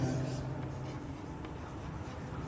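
Writing on a classroom board makes a quiet, continuous scratching and rubbing for a couple of seconds, low against faint room noise.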